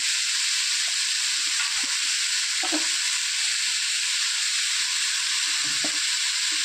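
Shallots and onion fry in hot oil for pumpkin masala, a loud, continuous bright sizzle with a few soft spoon taps beneath it.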